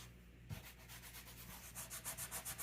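Dry, scratchy rubbing across rough gesso-coated paper, settling into quick back-and-forth strokes that grow louder and more rhythmic toward the end.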